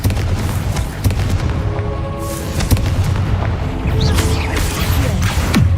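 Confringo blasting spell in Hogwarts Legacy goes off in a flurry of loud, close booms and crackling blasts, sharp explosive hits layered over rumbling game effects throughout.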